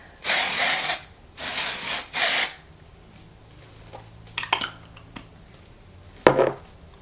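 Three short hissing bursts of an aerosol light-hold hairspray, close and loud, followed by quiet rustling and a few light taps.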